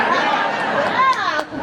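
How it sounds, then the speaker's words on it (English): A rowdy crowd at a political rally makes a dense wash of chatter and voices, loud and continuous, with overlapping talk and brief calls standing out. "We got a rowdy crowd here today."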